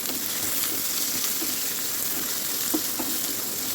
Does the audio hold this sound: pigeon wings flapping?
no